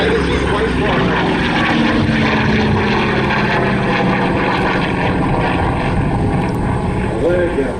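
A propeller airplane performs a roll at an air show, its engine drone loud, close and continuous throughout, with a voice speaking over it.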